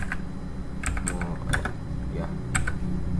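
Typing commands on a computer keyboard: several quick, crisp key clicks in short bursts, close by over a low background hum.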